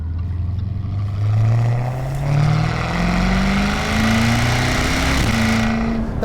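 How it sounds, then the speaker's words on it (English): A 2018 Jaguar F-Type SVR convertible's 5-liter V8 exhaust pulls through the gears, a loud, throaty drone that rises in pitch, drops at each shift and climbs again, close and sustained with no talking. "Nothing sounds as good, really, as a good 5-liter V8 engine."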